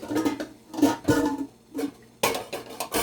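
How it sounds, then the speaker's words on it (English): Peanut and oats porridge scraped and poured from one pot into a larger pot, with repeated metallic clanks and scrapes of a spoon against the pots, close and fairly loud, no talking. "So I'm just gonna transfer it over into a larger pot."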